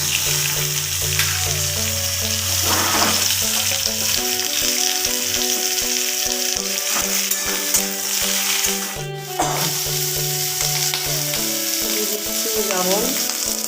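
Pointed gourd fries in oil in a wok, sizzling loudly and steadily at close range with occasional stirring scrapes, while a tonal background sound plays underneath.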